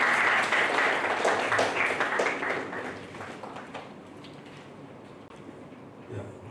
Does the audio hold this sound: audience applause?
yes